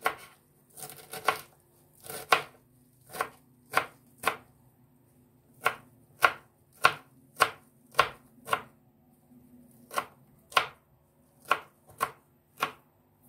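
Parsley being finely chopped with a knife, about sixteen crisp, evenly spaced strikes at close range with brief pauses between them and no talking.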